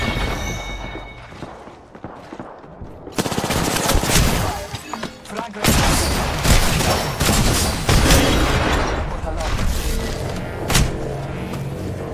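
Sustained automatic gunfire and bursts in the battle royale shooter Apex Legends during an intense fight, loud and continuous with dense rapid shots after a quieter start, no talk.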